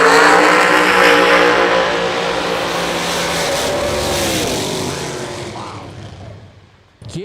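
Drag race cars roar at the Yellow Bullet Nationals, a loud, dense engine blast that sustains and slowly fades as they run off, ending in a brief drop before a final burst.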